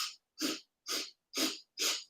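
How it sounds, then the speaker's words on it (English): Five short, sharp sniffs through the nose, evenly spaced, during a breathwork exercise done sitting up tall to build lung capacity; each inhale is close and distinct, with brief silences between and no talking. "sitting up tall, it's 5 sniffs, inhale"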